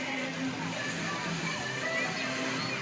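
Water pouring and splashing from a mushroom-shaped waterfall feature at an outdoor waterpark, a steady broadband rush that stays even throughout with no pauses.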